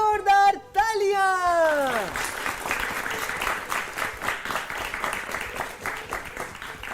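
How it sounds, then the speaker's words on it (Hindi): A classroom group gives loud applause for a student's correct answer. A short swooping tonal effect comes first, then dense, steady clapping that continues for several seconds. "जोरदार तालियां।"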